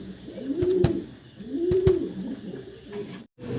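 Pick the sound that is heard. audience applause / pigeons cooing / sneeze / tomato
pigeons cooing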